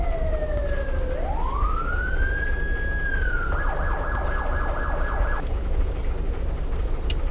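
A police car siren from the video game Unturned wails, sweeping down then up, then switches to a rapid yelping warble, moderately faint over a low hum.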